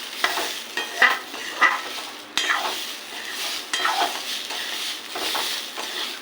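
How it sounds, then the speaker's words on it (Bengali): Gobindobhog rice being stirred in a pan for payesh, with a spoon scraping the pan in repeated strokes and soft clinks under a light, steady hiss, close and alone. "এবার এটাকে একটু ভালো করে নেড়ে নেবো"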